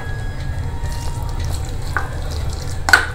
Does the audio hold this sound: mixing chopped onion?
yes